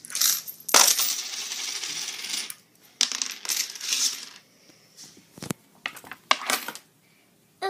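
Coins clatter and jingle in several loud, bright bursts, dropping and rattling against each other with short pauses between the handfuls.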